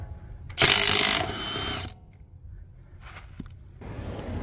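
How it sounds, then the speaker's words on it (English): A socket wrench ratchets off a lug nut on a 2024 Ford Mustang S650 wheel, a loud clicking burst followed by quieter intermittent ratchet clicks and a short mechanical rattle, no talking. "you're gonna simply just remove one lug nut."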